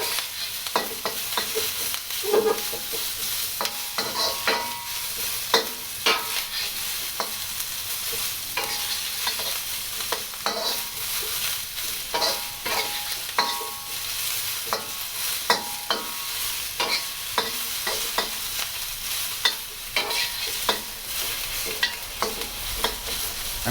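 Carrots, Napa cabbage and onions for shrimp lo mein stir-fry in a hot pan, a loud continuous sizzle broken by frequent sharp scrapes and clatters of a utensil tossing the vegetables, with no talking.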